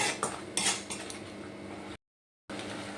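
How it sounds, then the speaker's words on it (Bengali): A spoon scraping and clinking against a pan while thick mango jelly is stirred on a gas stove, close and busy, with a short silent gap near the end before the stirring resumes. "এইভাবে নেড়ে চেড়ে নেড়ে চেড়ে এটা নাড়তে হবে না হলে কিন্তু তলায় লেগে যাবে"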